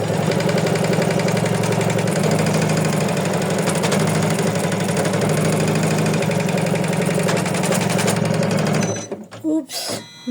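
An embroidery machine stitches through layered clear PVC and felt with flowers, giving a loud, rapid, rhythmic mechanical chatter with an overtight thread tension. The stitching runs for about nine seconds, then stops abruptly, followed by brief handling clatter.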